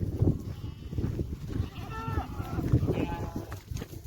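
Several goats bleat intermittently amid a busy farmyard while being fed dates, with someone talking over the animals and rustling movement nearby.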